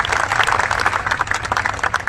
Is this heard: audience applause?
yes